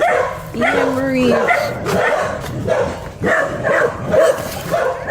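A dog in a Jamaican setting barks and yips repeatedly in short, irregular bursts, fairly close, mixed with people talking over and between the barks.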